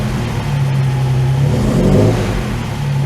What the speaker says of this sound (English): Literally just going to roll the throttle in a minute, just make sure the alternator's working.